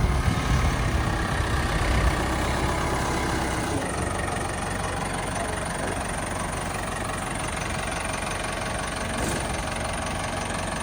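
A heavy diesel engine of a JCB excavator doing road work in Amaravati runs steadily nearby, a loud continuous rumble with a knocking throb and no voices.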